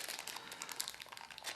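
Small plastic bag of game tokens from a Smartphone Inc. board game box crinkles steadily and close up, a continuous bright rustle with no talking.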